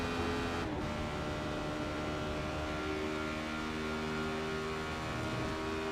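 A Radical race car engine drones loud and constant from on board at Watkins Glen, sustained throughout with steady harmonic tones shifting slightly in pitch, without any speech.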